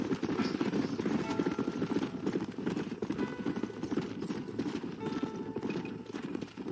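Horses trot in the Red Dead Redemption video game, a steady rapid clip-clop of hooves running close and loud throughout, with an occasional whinny and background game sounds.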